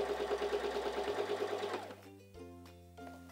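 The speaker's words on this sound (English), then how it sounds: "let's press down on our foot control for a straight stitch" A Singer Simple 3337 sewing machine runs a straight stitch, a steady close mechanical whir with a rapid even pulse that winds down and stops partway through, leaving quiet clicks after.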